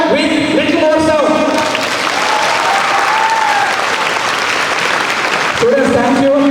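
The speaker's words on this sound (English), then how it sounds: "Once again a clap with little more sound." Loud, sustained clapping from a crowd of students at a college graduation ceremony, with faint tonal sounds and voices mixed in at the start and end.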